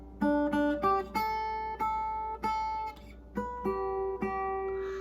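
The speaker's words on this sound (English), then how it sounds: "Rather than just doing the first string alone." Slack key guitar picked on the first string alone, a slow run of clear single notes ringing out one after another with no voices.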